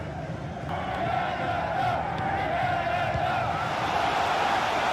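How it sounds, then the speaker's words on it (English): A simulated football stadium crowd for Jamaica versus Canada roars in a steady, swelling wall of cheering that builds after a moment, with a faint voice in the background. "Being egged on by the crowd."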